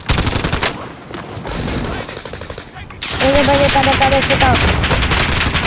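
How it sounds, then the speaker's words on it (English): Rapid automatic gunfire in Warzone rattles loud and close in sustained bursts, with a brief voice heard over the shooting. "I literally shot him like 10 times and did like no damage"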